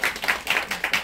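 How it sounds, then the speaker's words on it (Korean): A small audience at an outdoor rehearsal event claps in a loose, uneven rhythm, around seven near, bright claps in roughly a second, with no talk over them. "박수 한번 주시죠."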